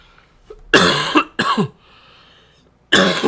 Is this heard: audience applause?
no